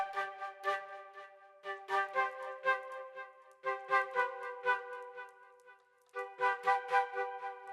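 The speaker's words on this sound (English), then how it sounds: "a little bit of kind of symphonic woodwind flute" A flute plays a series of bright, breathy phrases in short bursts. Each note trails off into a soft, lingering echo, and gaps separate the phrases.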